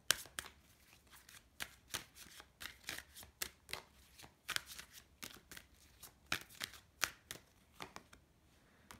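Tarot cards being shuffled by hand, a close series of soft papery riffles and taps in an irregular rhythm, quiet and alone without any talking.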